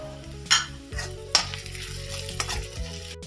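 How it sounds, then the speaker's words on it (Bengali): Crushed ginger with ground cumin, ground coriander and salt fries in a pan, producing a steady close sizzle punctuated by a few sharp scraping stirs, over a faint low steady hum. "মশলাটা দেওয়া হয়ে গিয়েছে, ভাজাও হয়ে গিয়েছে"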